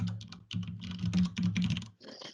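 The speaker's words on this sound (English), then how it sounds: "I can actually just double click and I can start typing" Fingers type on a computer keyboard during a spreadsheet demonstration, a fast run of soft clicking keystrokes in bursts with a brief pause near the end, close and moderately loud, no speech.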